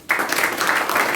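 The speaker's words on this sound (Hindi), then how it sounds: "बहुत अच्छी बात, ताली बजाइए।" Students in a live class at Simultala Awasiya Vidyalaya burst into applause, a dense, steady patter of many hands clapping close by that starts abruptly and fills the whole moment.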